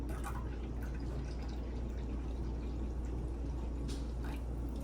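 7-Up soda poured into a Shirley Temple poke cake, a steady low liquid rush with soft splashing that continues evenly throughout, close and fairly quiet.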